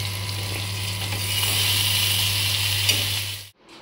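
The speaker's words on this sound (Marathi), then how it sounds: "आता ही मच्छी फ्राय झाली की मी जेवायला घेते" Fish pieces frying in a pan at home, a loud continuous sizzle close up with a low steady hum underneath, cutting off abruptly after a few seconds, with no talking.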